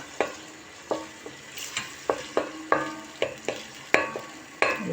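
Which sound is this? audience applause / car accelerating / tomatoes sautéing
tomatoes sautéing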